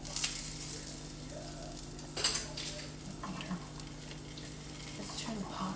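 Onion, garlic and tomato paste sizzle steadily in a pan. The hiss is continuous, with a few scraping stirs and clinks over a low hum.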